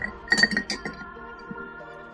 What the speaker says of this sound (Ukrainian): прибираємо зайвий лід і переливаємо